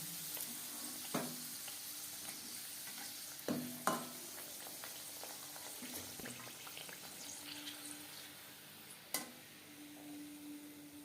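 Pea-stuffed kachori fry in hot oil, a soft continuous sizzle with occasional sharper pops and the clatter of a utensil turning them, heard close and fairly quiet.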